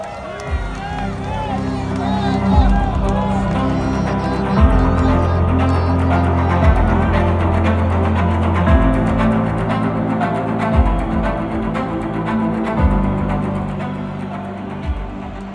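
A large crowd roars and cheers at an outdoor political rally, a loud, sustained swell of many voices close and surrounding, with background music pulsing beneath the din.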